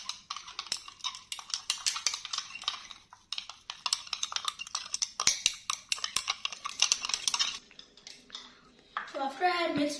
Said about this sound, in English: I'm finding it a little bit hard to mix it in the cold milk